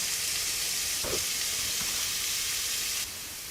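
Onions, carrots and garlic cloves fry in a pan over medium-high heat, giving a steady, close sizzle throughout with a couple of brief stirring clatters in the middle and no voices.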